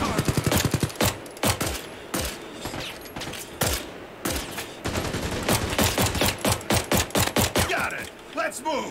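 Video game gunfire, dense rapid bursts of shots and automatic fire hammering throughout, loud and close, with talk heard alongside.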